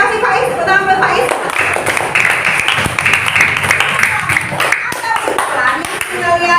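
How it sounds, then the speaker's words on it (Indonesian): A classroom claps for a student, a dense burst of hand clapping that swells to a loud peak and then fades, close by, with children's voices mixed in. "Tepuk tangan buat Faiz."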